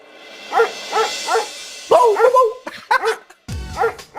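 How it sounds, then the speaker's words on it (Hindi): A dog barks repeatedly and aggressively at close range, several sharp woofs in uneven bursts with a brief growl-like pause between them. "यार मंशु, इस कुत्ते का गुस्सा बढ़ते हुए देख के मेरा भी एक्साइटमेंट बढ़ रहा है।"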